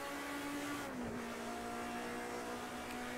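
Race cars in a racing video game, Nissans and a small four-cylinder BMW, hold a constant high engine drone with a tonal whine that dips as the revs shift. Tire noise hisses faintly beneath the engines.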